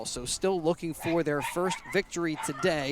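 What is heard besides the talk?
dogs barking at a baseball game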